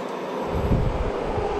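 A Tokyo subway train runs along with a steady, loud low rumble and rattling that swells briefly midway through a short stretch, with no voices.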